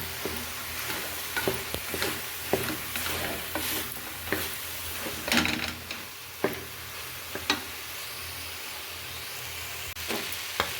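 Chili powder is stirred into a hot pan while making cluster bean gojju, a spoon scraping and tapping in irregular strokes over a soft, steady sizzle, close and fairly quiet.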